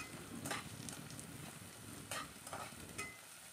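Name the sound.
chopped onions frying in oil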